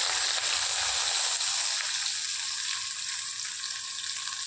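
Mustard seeds, onion, garlic and curry leaves frying in hot oil, giving a continuous loud, close crackling sizzle that holds steady throughout and eases slightly toward the end.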